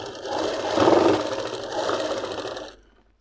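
A sewing machine runs a steady stitching burst along palazzo pants fabric, loud and close, with a rising and falling whir over about three seconds before stopping abruptly.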